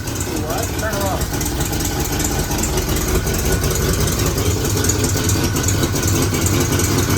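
Restored 1970 Mercury Cougar Eliminator 428 Cobra Jet V8 idling rough and loud after a rebuild, a continuous heavy rumble that runs the whole time while people talk over it.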